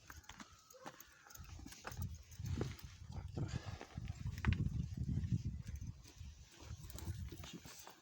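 Hooves shuffle and thud on the ground as a mare moves about while restrained by a nose twitch, irregular steps and stamping close by, with rustling movement throughout.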